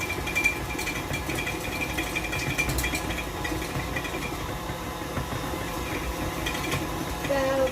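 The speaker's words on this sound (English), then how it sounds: "It's supposed to sound like this, because it's the beaters mixing against the bowl and the butter being churned." An electric mixer's beaters churn butter against the bowl, a continuous rattling, whirring drone that stays loud and steady throughout.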